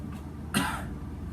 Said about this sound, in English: If you forget his name, just cough.